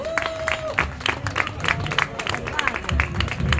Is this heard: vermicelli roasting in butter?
no